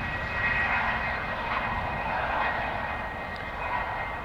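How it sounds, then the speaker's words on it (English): A FedEx Boeing 767-300 jet airliner rumbles steadily at an airport, its engine roar broad and continuous at moderate loudness with no voices over it. "Here we've got the FedEx 767-300."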